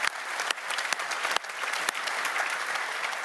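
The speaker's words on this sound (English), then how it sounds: "A warm round of applause, TwinScan Factory." An audience at a manufacturing industry forum gives a sustained round of applause for a factory team, dense and even, with a few louder individual claps standing out.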